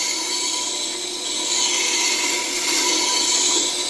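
A bowl gouge is sharpened on a Tormek system's 600 grit diamond wheel, giving a steady, close grinding and rasping hiss with a faint hum running through the four seconds.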